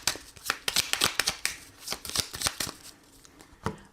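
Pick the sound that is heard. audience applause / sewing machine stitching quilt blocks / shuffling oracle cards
shuffling oracle cards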